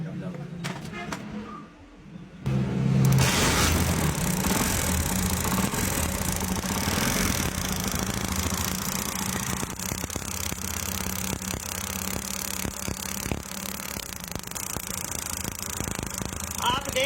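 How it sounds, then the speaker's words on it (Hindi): A motorbike fitted with a fan capacitor starts up about two seconds in and then idles steadily, a loud close continuous engine rumble that runs to the end, with a voice faintly underneath. "अब बाइक को स्टार्ट करते हैं और आपको इसका करंट चेक करवाते हैं।"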